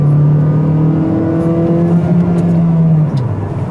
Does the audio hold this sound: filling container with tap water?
no